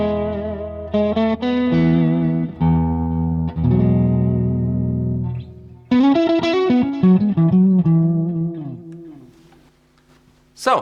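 Electric guitar through a Marshall 1987X amp with delay, in its clean signal that is never fully clean, plays strummed chords and then single-note runs, loud and alone, ending with a brief pick noise.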